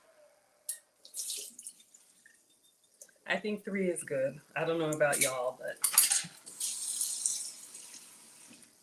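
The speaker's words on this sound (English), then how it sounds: "let's do 1 more rinse of the rice water." Rice rinsed in water at a kitchen sink, with tap water running, splashing and metal utensils clinking against dishes, while a person talks over the washing sounds.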